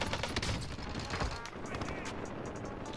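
Gunfire in a Warzone Rebirth match, a series of fairly close shots and short bursts that are sharper at the start and then settle into fainter, more scattered firing.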